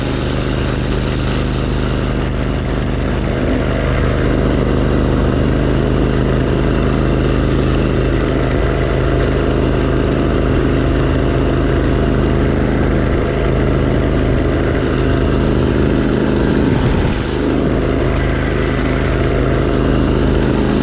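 A Craftsman LT4000 lawn tractor engine runs hard and loud at high revs while driving at about 15 mph, a continuous buzzing drone with steady rumble throughout.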